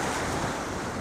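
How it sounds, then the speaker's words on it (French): Waves wash steadily on the Saint Lawrence River shore near Rimouski, mixed with heavy wind buffeting the microphone in a dense, continuous roar. "Mais il y a des vagues, il y a des vagues, il y a des vagues."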